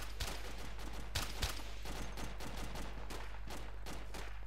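Enemy gunfire in a military shooter game, a steady rattle of rapid shots with a few sharper, louder cracks standing out, continuous across the whole stretch at moderate distance.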